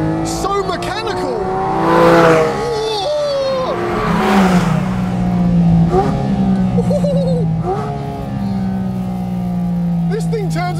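A 2022 Porsche Cayman GT4 RS engine wails as it is thrown up through seven gears, with rising, falling revs in loud, close bursts beneath someone talking over it inside the cabin.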